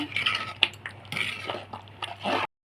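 Cooked masala being stirred in a pot with a utensil, producing soft squishing scrapes and a few sharp clinks of metal against the pot, close and intermittent over a low hum.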